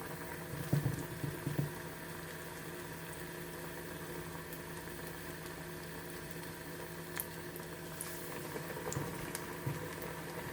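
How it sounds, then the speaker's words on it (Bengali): Potato and onion pakoras deep-frying in hot oil make a steady, close sizzle and bubbling hiss, with a few small clicks near the start and no one talking. "তেলের মধ্যে ডুবো তেলে ভাজব আমাদের তেল গরম হয়ে আসছে এখন আমরা এতে ছোট ছোট করে এভাবে দিয়ে দেব তেলের মধ্যে ছেড়ে দেবো"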